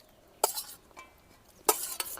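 Spiced fried cauliflower florets being mixed together in a bowl, two short bursts of scraping and clinking about a second apart with a quiet pause between, no talking.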